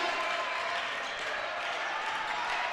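A basketball crowd at the Pope Activity Center applauds a steal and layup in a college men's game. The clapping is a continuous, even wash of many hands lasting the whole stretch, with no talk standing out.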